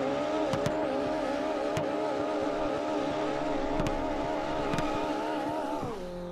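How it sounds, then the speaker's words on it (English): Car tires roasting in a burnout in the racing game Shutoko Revival Project, a steady loud engine drone with a wavering squeal held for about six seconds, then dropping in pitch near the end. "somebody is just roasting the tires"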